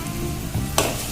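Sliced shallots, ginger and garlic being sautéed in a pan, a short steady sizzle with a quick scrape of stirring near the end, close by.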